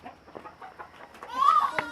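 A chicken clucks close by, a few short calls rising into a louder drawn-out squawk near the end, with soft rustling before it.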